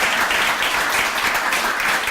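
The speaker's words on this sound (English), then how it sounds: "Round of applause." Audience applause at a live interview event on mental health, a steady dense patter of many hands clapping at moderate volume throughout, with no talking over it.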